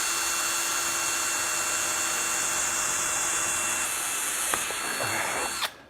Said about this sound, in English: You want to start by drilling a hole in the bottom.